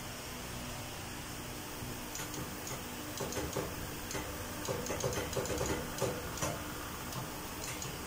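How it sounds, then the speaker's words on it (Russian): A new-model machine tool runs steadily with a busy mechanical ticking and rattling over a constant hum, the clatter growing somewhat denser toward the middle. "Сейчас я покажу вам, как работает станок."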